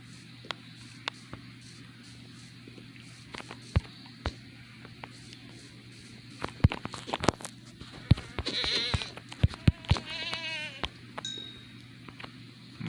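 Goats in Minecraft bleat in short, nasal cries with scattered clicks and taps, the bleats clustered in the middle and fairly faint against a low steady hum.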